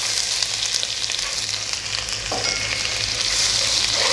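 Ginger garlic paste fries in hot ghee for a chicken biryani, giving a steady, close crackling sizzle with fine spitting bursts that swells slightly toward the end. No one speaks.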